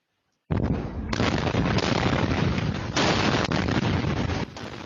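A series of explosions at night in Tainan's Annan District, blamed on waste containing magnesium and lithium compounds: a sudden loud blast, then a sustained roaring rumble with further surges of bursts, close and powerful.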